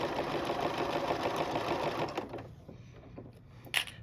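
A sewing machine with a new high-capacity bobbin stitches binding onto a quilt, running in a steady loud whir that cuts off partway through, followed by a few faint clicks and a brief sharp tap near the end.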